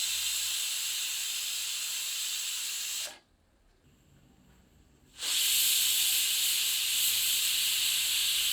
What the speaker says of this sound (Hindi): प्रेशर कुकर की भाप स्वतः मुक्त होने दें।